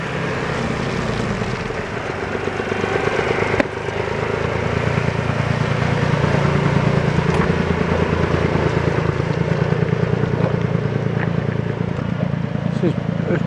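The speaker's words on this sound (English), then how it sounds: "That's a fast enough fucking tractor" An old tractor engine runs steadily at close range, a low throbbing drone with a sharp knock near the start, while people talk over it.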